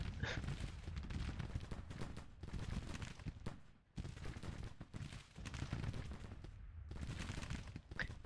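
Artillery and massed gunfire roll continuously across a Civil War battlefield in the strategy game Grand Tactician: The Civil War, a dense, distant-sounding barrage with overlapping booms and crackles and only brief lulls.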